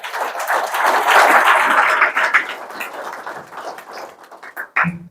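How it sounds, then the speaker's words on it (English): Audience applauding at a graduation ceremony, a dense burst of clapping that swells, then thins into scattered claps before fading, with a brief voice at the end. "A round of applause to Sane."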